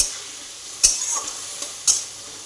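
A spice paste of cumin, coriander, turmeric and salt frying for fish curry, a soft steady sizzle broken by two sharp scrapes of a spatula against the pan.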